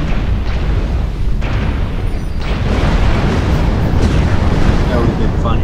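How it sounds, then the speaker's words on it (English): Incoming missile strikes in MechWarrior Online, a dense, loud rumbling barrage of explosions and booms that stays continuous and heavy for the whole stretch, with game voices mixed in. "Warning, incoming missile."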